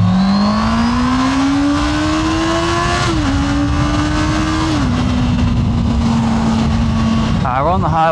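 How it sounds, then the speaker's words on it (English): A motorcycle cruising on a highway: loud, continuous engine drone with a rising pitch and small gear-shift drops, buried in heavy wind roar against the helmet-mounted mic, with a brief shift near the end. "we're on the highway now. I want to see how the mic handles the wind."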